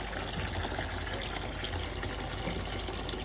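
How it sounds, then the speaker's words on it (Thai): Water flowing out into a canal from a mobile filtration truck, a steady broadband rush that runs continuously and evenly throughout, close and fairly loud, with no voices. "อันนี้คือน้ำฝั่งที่คลองแล้วนะครับผม ไปดูสังเกตน้ำนะครับ ที่ไหลออกมา"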